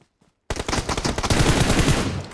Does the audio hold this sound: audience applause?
no